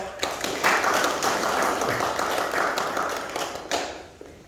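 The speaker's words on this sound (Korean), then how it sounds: "나오실 때 박수 부탁합니다" Applause from an audience at a Korean logistics center opening ceremony, broadband clapping sustained for several seconds at moderate distance with a few sharper taps standing out, fading toward the end.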